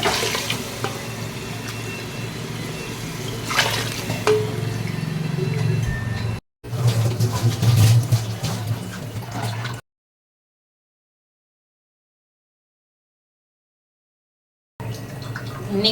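Water from a tap gushes steadily onto rice for biryani, a continuous splashing pour that stops briefly, goes quiet for several seconds, then resumes.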